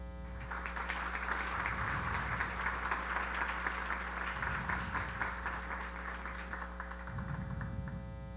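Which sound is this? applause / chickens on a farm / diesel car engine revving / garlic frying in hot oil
applause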